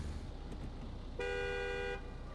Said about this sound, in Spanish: El sonido y la bocina es igual que en Expedition.